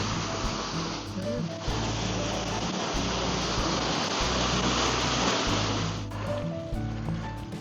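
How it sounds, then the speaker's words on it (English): An old water wheel turns with steady rushing, splashing water close by, a continuous broadband wash with faint low rumbles beneath, heard on a wooded country walk. "The old water wheel."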